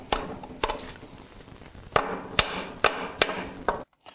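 Hammer blows ring out against a motorcycle swingarm nut, a cluster of sharp metallic strikes followed by a pause and then a steady series of six or so spaced, loud, close hits.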